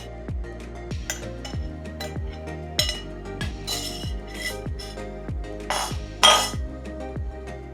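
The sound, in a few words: pounding dried and green chilies in stone mortar with pestle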